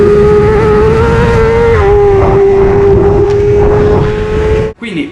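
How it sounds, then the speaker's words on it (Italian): Racing motorcycle engine at the Mugello circuit screams at high, steady revs for nearly five seconds, then cuts abruptly near the end with a brief downshift burble, loud and close. "Ascoltate il rumore del motore."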